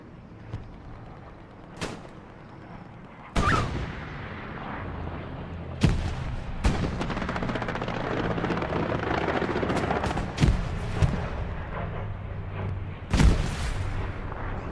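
Grenade explosions and gunfire in Hell Let Loose, a competitive match, with scattered sharp booms and bursts of shots over a continuous dense rumble of distant battle.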